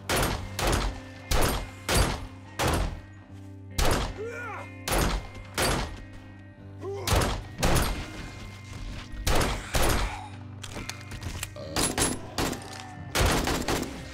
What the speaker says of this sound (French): Non, mais moi je tire parce que j'ai pas le temps d'arriver sur eux